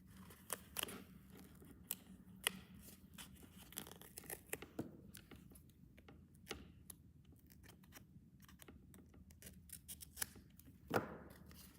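Non-stick scissors cut paper for a card, with a series of crisp snips and crinkly paper sounds at irregular intervals, close but quiet, over a soft room hum.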